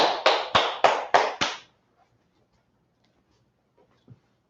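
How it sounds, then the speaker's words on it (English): Six slow, evenly spaced claps from a class group sound out crisply and fairly close, then stop into near silence broken by a couple of faint knocks. "Clap it up for the class"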